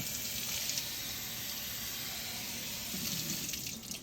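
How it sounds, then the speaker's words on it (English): Water runs steadily from a kitchen tap onto a cutting board, a continuous hissing splash at moderate loudness that holds throughout and eases slightly at the very end. "you're going to want to get your board a little wet"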